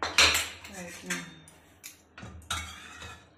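Metallic clanks and scrapes of a pressure cooker and lid being opened after cooking dal, several sharp knocks in an irregular rhythm, close by.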